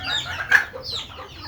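Chickens raised on a rooftop give a few short clucks and calls close by, one sharper note in the middle, over a low background hum.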